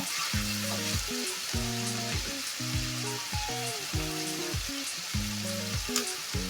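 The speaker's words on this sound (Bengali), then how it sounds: "দিয়ে নাড়াচাড়া করে লাল করে একটু ভেজে নেব" Water spinach (kalmi shaak) fries in a pan with salt and turmeric, a steady close sizzle running throughout with repeated scraping stirs in a regular rhythm.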